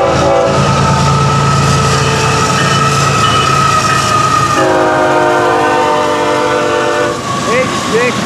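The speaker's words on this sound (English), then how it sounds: "We'll take this train to the north this morning." A loud FEC freight train, led by locomotive 210, rumbles past up close with clattering wheels, then a blaring multi-tone horn sounds, continuing over the passing cars.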